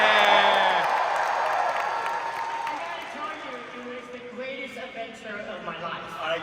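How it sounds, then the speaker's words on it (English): A crowd at a D23 stage panel cheers and applauds, loudest at the very start and then thinning into scattered clapping and whoops as a voice talks over it. "by the sounds of the crowd, we have some fans here"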